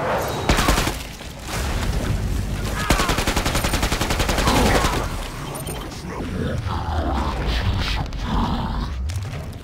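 A turret in Killing Floor 2 sends out loud, rapid mechanical bursts of gunfire in fast rhythmic runs, mixed with creaking machinery and chaotic combat noise that eases toward the end.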